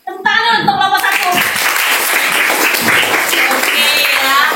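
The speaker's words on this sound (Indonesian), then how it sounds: "tepuk tangan untuk kelompok 1" A classroom of students bursts into loud applause for a presenting group, dense overlapping clapping that starts abruptly and holds steady for several seconds, with young voices mixed in.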